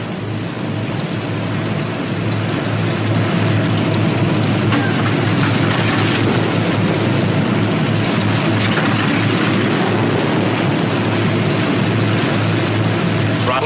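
A P-61 aircraft's left engine idles at low RPM, a loud, steady, close drone with a rough broadband roar that holds even throughout.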